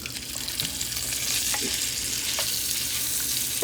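Pieces of pickled pork fry in melted butter in a pan, giving a steady, dense sizzle from close by. Occasional utensil taps and stirring sounds break through it, with no voices.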